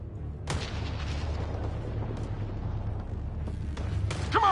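Enemy gunfire in the video game Mass Effect Andromeda: a few sharp, booming shots ring out at irregular intervals over a steady low rumble of battle ambience, fairly loud and close.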